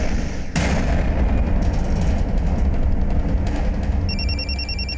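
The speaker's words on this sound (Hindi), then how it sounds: "पापा का फोन है।" An electronic phone ringtone chirps in a repeating pattern near the end, over a dense rumbling background and a sudden burst of noise.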